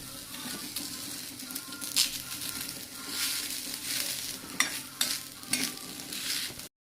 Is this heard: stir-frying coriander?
yes